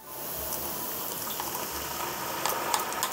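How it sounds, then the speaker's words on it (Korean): Seasoning sauce poured into a hot pan of baby potatoes and onions, giving a steady loud sizzling hiss that bubbles and spatters for a few seconds, close up with no talking. "이럴 때 이제 양념을 부어줍니다."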